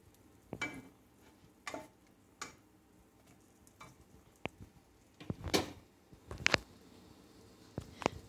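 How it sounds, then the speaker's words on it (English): Sausage patties fry in an Aldi Crofton Awesome Pan, with faint steady sizzling under scattered ticks and clinks of a utensil against the pan. "we just cooked a few sausage patties from Aldi in the Aldi Crofton Awesome Pan"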